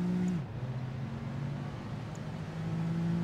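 American muscle car engine in Project Gotham Racing 2, a steady low drone held through braking with a brief dip in pitch, then sustained again, loud and continuous with no talk.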